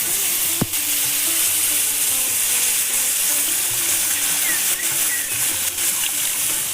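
Masoor dal lentils with salt and turmeric fry in a pan, a loud, continuous close sizzle with light stirring scrapes and one sharp knock near the start, no voices.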